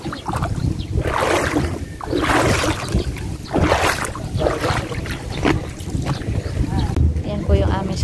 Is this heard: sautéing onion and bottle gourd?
no